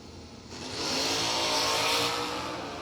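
A Chevy Nova and a 1992 Mustang launch off the line at a street drag racing event, a roaring engine surge swelling to a loud, sustained blast before easing slightly.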